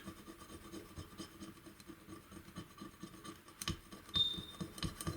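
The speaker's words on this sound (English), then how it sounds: "Mostly the polishing is to get rid of these seam lines." Polishing seam lines off Tokyo Marui 416D Next Gen airsoft gun parts, a faint continuous rubbing and scratching with irregular strokes, slightly louder near the end.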